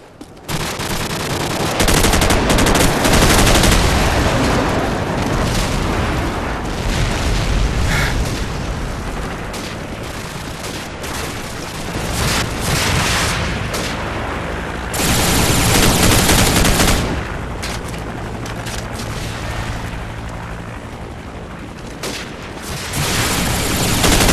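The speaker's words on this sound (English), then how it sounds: "Friendly airstrike on the way!" A friendly airstrike in Call of Duty 4 brings loud, dense rounds of explosions and rattling gunfire. Heavy booms swell and ease in waves over about twenty seconds, with no voices.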